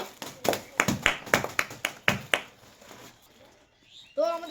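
Children at a tissue-and-water-glass game contest clap their hands together in a quick burst of about ten sharp, fairly close claps, which then stop, followed by a short voice.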